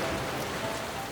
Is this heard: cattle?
no